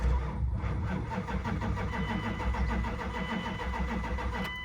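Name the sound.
Dodge Durango engine cranking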